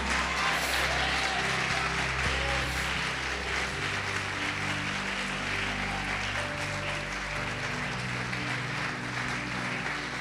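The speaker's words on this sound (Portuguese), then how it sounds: "Pode aplaudir, glorificar." Faint, diffuse applause from a church congregation during a sermon, a soft continuous wash of clapping with low background hum.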